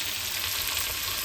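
Fish frying in a pan, a steady bright sizzle that stays loud and even throughout, close by, with no talking over it.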